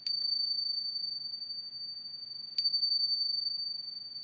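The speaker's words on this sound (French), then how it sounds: "en entendant les cloches" Two clear, bright bell strikes mark the close of an evening meditation, the first at the start and the second midway, each leaving a long, steady ringing tone that fades slowly over quiet room ambience.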